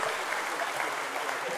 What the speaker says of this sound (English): Can we give them again another round of applause?